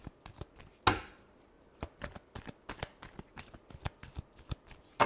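Tarot cards being shuffled up close: a sharp riffle burst followed by a string of crisp, irregular card slaps and clicks against a quiet background, with no talking.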